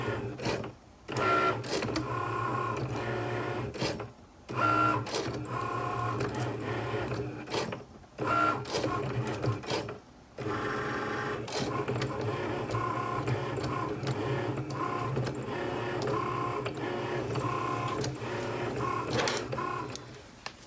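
A Cricut cutting machine cuts a T-shirt design with a loud, close, continuous motorized whirring and buzzing. It breaks off in several brief pauses as the head changes direction, and no one speaks.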